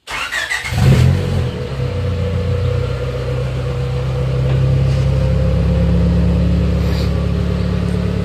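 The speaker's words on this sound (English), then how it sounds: "That is what you call a euroR running in a Prelude." A Honda Euro R engine swapped into a Honda Prelude runs steadily nearby after a brief start-up burst. It holds a loud, even idle-to-rev drone throughout with no talking.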